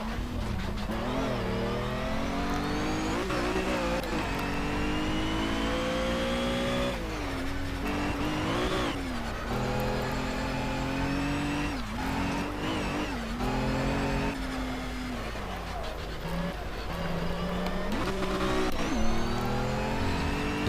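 Race car engine in the video game Project CARS on Xbox One, revving continuously with rising and falling pitch sweeps as gears shift, loud and steady throughout with occasional tire noise and no talk.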